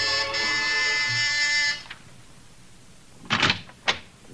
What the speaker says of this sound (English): you've got your finger on the buzzer